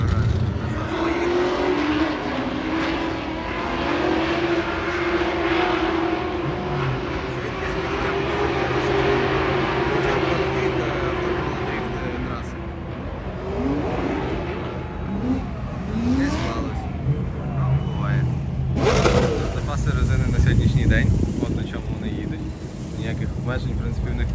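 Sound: Formula Drift race cars at Irwindale Speedway

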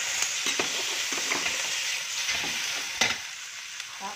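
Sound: shrimp frying in a pan

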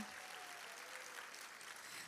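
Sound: audience applause

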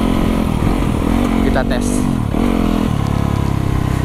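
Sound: Yamaha YZ 250FX supermoto motorcycle being ridden

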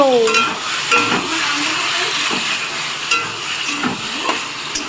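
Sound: meat curry cooking in a pan

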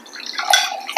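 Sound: pouring water

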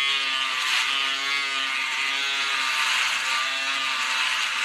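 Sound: Braun Series 3 electric shaver cutting hair

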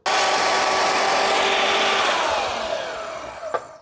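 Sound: cutting metal part for a 1936 Chevy brake pedal

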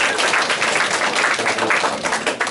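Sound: audience applause for a patron at an art battle

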